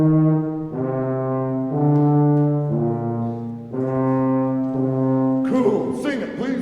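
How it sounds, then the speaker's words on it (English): Orchestra plays the Dies Irae death motif as slow, sustained low notes in a steady descending line, loud and full, ending in a noisy burst of applause or rustle. "After Paganini died, it became popular to make the Day of Wrath the death motif of music"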